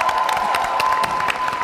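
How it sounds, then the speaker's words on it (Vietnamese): A live comedy audience applauding for performer Hoài Linh and his troupe, a steady crowd of many hands clapping at moderate distance, dense and continuous throughout. "Một tràng vỗ tay thật to cho nghệ sĩ Hoài Linh cùng với đoàn Thành Tài"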